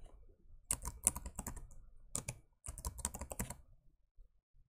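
A new password is typed on a computer keyboard in quick bursts of crisp, close key clicks separated by short pauses, with the room otherwise quiet.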